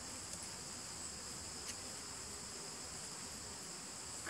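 Bees buzz around a beehive outdoors, a dense continuous hum heard from a short distance, steady and moderately faint, with no talking.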